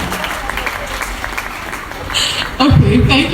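Conference audience clapping for themselves during a business-discipline session, a scattered, fairly soft patter of hands under ambient hall noise, swelling louder near the end as voices join in.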